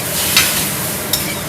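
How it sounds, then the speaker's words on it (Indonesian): Food is stirred and sautéed with thick oyster sauce in a pan, giving a steady soft sizzling hiss with two brief scraping clinks of a utensil against the pan. "kita tumis."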